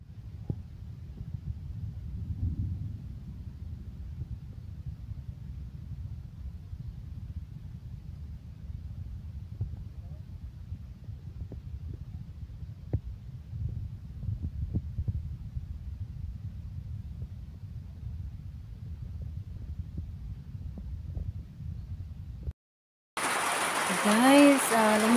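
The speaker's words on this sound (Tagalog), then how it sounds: "Umulan na dito." Rain falls outside in a steady, low rushing patter, moderately loud and continuous for over twenty seconds, then cuts out briefly before a burst of louder noise at the end.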